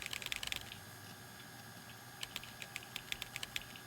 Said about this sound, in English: All these keyboard noises are from the program